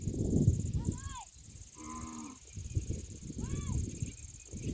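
Cows at a village farm moo several times, a few drawn-out calls with a nasal tone, while green fodder is tossed to them. A voice and rustling sound nearby.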